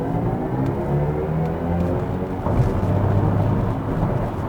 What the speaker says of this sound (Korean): iX3만을 위해서 새롭게 개발한 디지털 사운드가 들어가 있다라고 하는데요